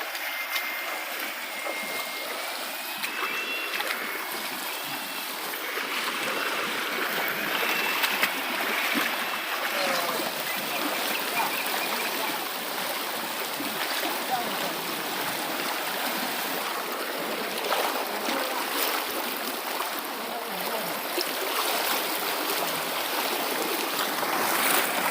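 A swift, deep river stream being crossed on foot rushes in a constant, dense wash of water noise, steady and unbroken throughout with no clear voices.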